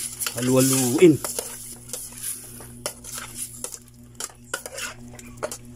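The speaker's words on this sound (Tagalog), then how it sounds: "Tapos ilagay ang chicken. At halu-haluin." Chicken pieces dropped into a pot and stirred for chicken pochero: a brief voice, then a spoon scraping and clinking against the pot over a soft, steady sizzle, with repeated close metallic knocks.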